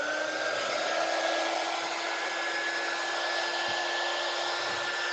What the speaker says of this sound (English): the heat gun it does blow